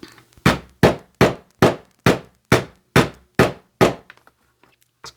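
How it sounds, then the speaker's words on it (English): Nine sharp hammer blows land on a wooden board at a steady, even pace, loud and close, followed by a couple of faint taps. "I'm just going to hammer it right off"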